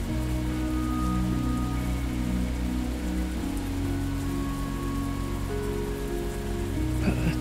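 Falling rain in the video game Xing, a steady even patter of drops over a low ambient hum and sustained tones, continuous and moderately quiet with no voices.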